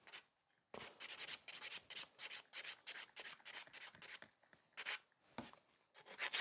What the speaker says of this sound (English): I'm only filing, like with this movement, I'm only actually removing excess of the product where I've got too much